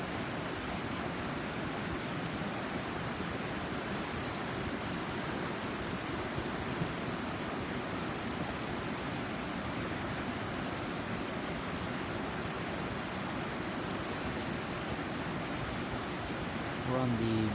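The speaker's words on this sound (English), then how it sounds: "We're on the Brooks River," Rushing water of the Brooks River just below the falls in Katmai, a dense, steady roar that fills the whole clip at moderate level without a break.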